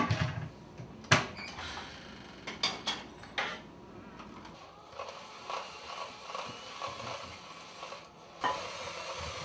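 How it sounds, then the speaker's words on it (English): Butter and sugar for ginger cookies get worked together with an egg beater in a bowl, giving close, uneven scraping and whirring strokes with a few sharper knocks early on and no talk. "So what do we need? Our trusty egg beater."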